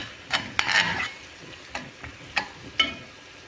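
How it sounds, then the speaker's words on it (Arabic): Tomato paste frying and being stirred in a pan for an Iraqi eggplant stew, with sharp spatula scrapes and clicks at irregular intervals over a soft, steady sizzle. "هسه حبايبي حمست المعجون"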